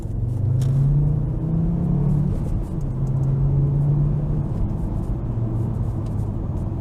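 A Volvo S60R with a Stage II tune pulling away from a light at about half throttle, its engine a steady deep rumble heard from inside the car, rising slightly in pitch as it gains speed, with no talking.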